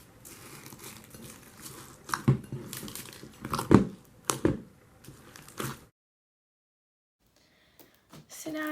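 Beads kneaded into a white glue slushy slime, wet crackling squishes and bead clicks in uneven bursts, close, then near silence with faint handling noises at the end.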